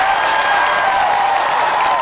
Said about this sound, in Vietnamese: một tràng pháo tay thật lớn cho Phương Trinh